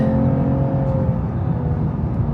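A 2026 Lexus IS350 accelerates back up to highway speed, heard from inside as a steady engine drone and road roar that hold loud and constant throughout.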